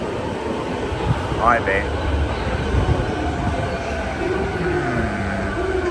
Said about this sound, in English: Is that my train coming?